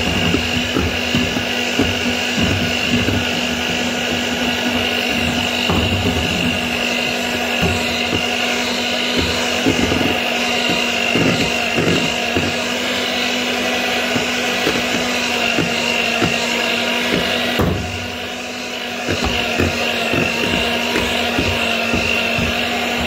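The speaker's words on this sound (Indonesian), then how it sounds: "Ini mixer sekejap aja ya." An electric mixer whirring steadily through butter cake batter with milk, flour, vanilla and melted butter for a steamed cake, a loud continuous motor drone close up with a brief dip near the end.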